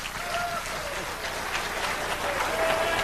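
An audience at a Conspiracy Con lecture applauds and cheers for Eustace Mullins, a dense wash of clapping from a crowd that sounds fairly close and sustained throughout, with some voices mixed in.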